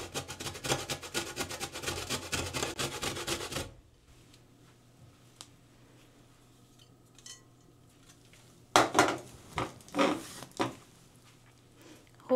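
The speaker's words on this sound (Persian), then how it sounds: "لیمو را اندازه یک قاشق چایخوری رندم، البته پوست لیمو را" Steady rhythmic scraping for a few seconds, then quiet, then several more bursts of rasping strokes close by as lemon peel is rubbed against a grater for zest.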